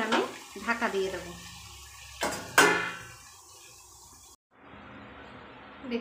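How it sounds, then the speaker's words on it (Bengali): A lid goes onto a pan of potatoes frying with salt and turmeric on a home kitchen stove. Light clinks of utensils come first, then two sharp metallic clatters as the lid lands, and the frying turns to a muffled hiss. "এবার আমি ঢাকা দিয়ে দেবো।"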